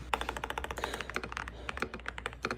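Rapid clicking keystrokes on a computer keyboard come in bursts during a typing game, crisp and close with brief pauses between runs of taps.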